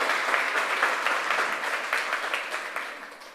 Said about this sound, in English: it wouldn't be wrong to give her some applause for that.